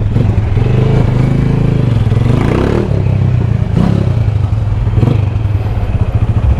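A motorcycle rides through Jamaican rush-hour traffic, its engine droning loud and steady throughout with rising revs and passing clatter mixed in, close and continuous.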